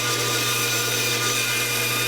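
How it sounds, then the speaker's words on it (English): A bandsaw cuts a curved profile into a wooden panel for frame-and-panel construction, giving a steady, unbroken whirring drone with a constant hum throughout and no voices. "Bandsaw the profile traced directly from the frame"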